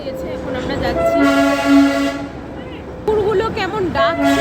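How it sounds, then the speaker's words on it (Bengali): The Darjeeling toy train departs Sonada station with loud, sustained horn toots, two long blasts separated by a short pause, close by and over the rumble of moving carriages, with voices nearby. "ট্রেন ছেড়ে দিয়েছে, এখন আমরা যাচ্ছি"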